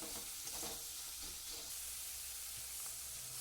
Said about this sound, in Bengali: একটু নাড়াচাড়া করে নিলাম মশলাটাকে তেলের সাথে